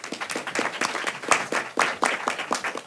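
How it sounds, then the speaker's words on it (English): Welcoming applause for a congressman at a nutrition policy event fills the room, moderately loud and steady with rhythmic clapping throughout. "Round of applause, please."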